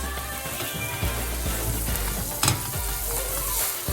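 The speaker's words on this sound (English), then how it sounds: "let those spices cook off for a couple of minutes. Get all those spices around the onions." Spices sizzle with onions in a frying pan while cooking Indian restaurant-style sag paneer. The frying is loud and steady with a low rumble under it, and a short sharper crackle or scrape comes halfway through. No voices.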